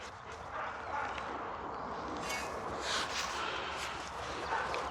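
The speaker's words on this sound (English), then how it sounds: "Sounds like the neighborhood dog's at it again." A neighborhood dog barks and yips repeatedly in the distance outdoors, the sound partly buried in steady broadband background noise for several seconds.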